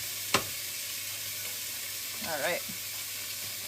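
Strips of cheap sirloin steak, about a pound, hit a hot pan on high heat for a beef and broccoli stir fry, giving a sharp initial sizzle and a steady frying hiss, with a brief spoken remark partway through.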